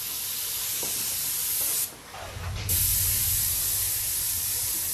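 An airbrush sprays paint at high pressure, about 30 psi: a close, loud, continuous hiss that briefly cuts out and then resumes stronger.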